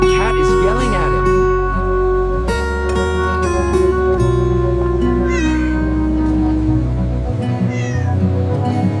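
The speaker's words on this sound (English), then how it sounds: "The cat is yelling at him." A large mother cat yowls angrily near a car to protect her kitten. Loud drawn-out wails rise over a busy, constant backdrop of music and background noise.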